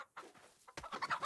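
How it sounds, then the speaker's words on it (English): A chicken in the DayZ game clucks in a quick series of short, close, choppy calls. "Oh, I'm gonna get this chicken."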